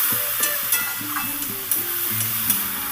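Papaya fries in a pan for a vegetarian papaya dalna, with a soft continuous sizzle and repeated scraping stirs of a utensil at an irregular rhythm.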